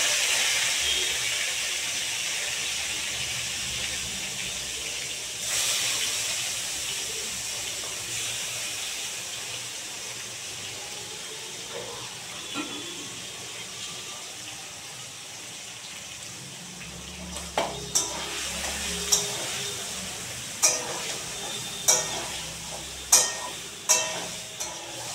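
Small mourala fish fry in hot oil in a wok, producing a continuous, moderately loud hiss and sizzle. Sharper clicks and scrapes of stirring join toward the end, and no one speaks.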